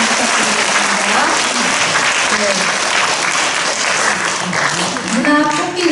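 A crowd at a literary society's book launch claps warmly and continuously, dense applause filling the room with a few voices and cheers rising near the end.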